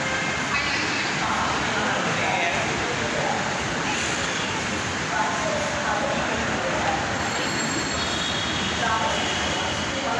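A metro train pulls into a station platform on the Motijheel–Uttara line, a steady loud rumble of wheels and rail noise with faint squealing filling the whole stretch, nearby voices blending in.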